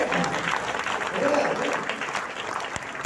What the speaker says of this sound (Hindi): ऐसे इंसान के लिए ताली बजा सकते हो यार